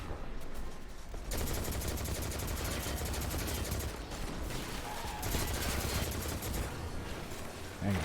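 Rapid automatic gunfire rattles from a fast-firing weapon in the shooter Destiny 2, sustained and loud after a brief quieter moment, with game effects layered in.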